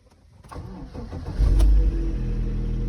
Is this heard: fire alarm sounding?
no